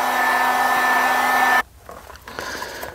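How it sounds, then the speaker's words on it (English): A heat gun blows steadily and loudly, drying glue on a leather holster, then cuts off abruptly halfway through, leaving quieter handling noises and faint workshop sounds. "So I'm going to hit this with the heat gun"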